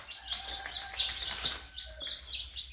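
Native Korean chickens and ogolgye chicks cluck and chirp as they chase a small frog around a rural coop, a busy close flurry of overlapping calls with no talking.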